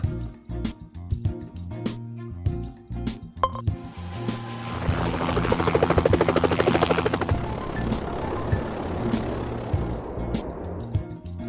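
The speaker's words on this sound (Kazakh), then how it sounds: "Тік ұшақ." A helicopter's rotor beats in a rapid, rhythmic chop over a droning engine, rising to a loud close pass and then easing off.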